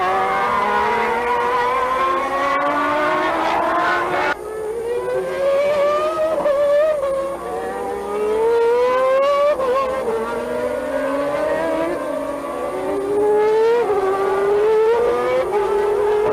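Formula One cars race at the Brazilian Grand Prix at Interlagos, their high-pitched engines screaming and sweeping up through the gears in repeated rising whines, loud and close, as cars pass and accelerate one after another.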